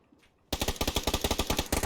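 Rapid automatic gunfire in a competitive multiplayer shooter match: a quiet lull, then a sudden loud sustained burst of evenly spaced shots, about a dozen in under 1.5 seconds.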